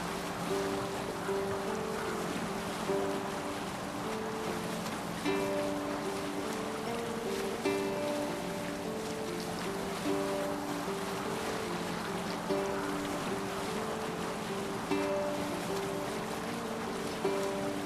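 Viking longboat moving over the sea in Assassin's Creed Valhalla, a steady wash of water and hull noise under faint repeating game music tones.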